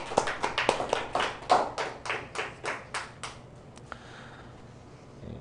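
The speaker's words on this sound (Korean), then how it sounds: "우리 하나님께 영광의 박수 한번 올려드리겠습니다." A church congregation claps during a Sunday sermon, a dozen or so sharp, evenly spaced claps in a brisk rhythm that stop partway through, leaving a quiet room.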